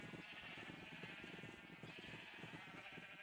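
Sheep bleat continuously in Minecraft, a steady overlapping chorus of game farm-animal calls at moderate loudness with no pauses.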